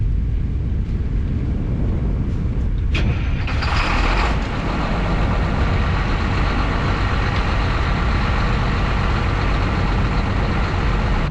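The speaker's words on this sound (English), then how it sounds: "Let's start the tractor up first and go from there." A John Deere 8770 farm tractor runs at a steady idle, its engine a loud, continuous low rumble, preceded by a brief mechanical clatter and whine as it starts up.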